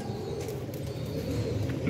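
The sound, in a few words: pigeons cooing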